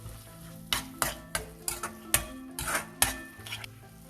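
Dal tadka spices with coriander powder are stirred in a hot pan under a soft sizzle, with about ten sharp spoon knocks and scrapes against the metal at an uneven pace, close by and with no voices.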